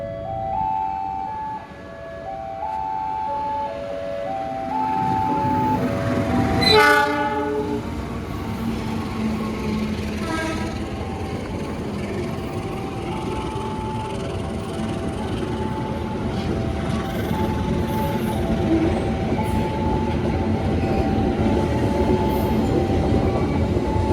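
A fast Argo Wilis passenger train rushes past with a loud horn blast near the start, then a sustained roar of passing cars and rhythmic rail clatter.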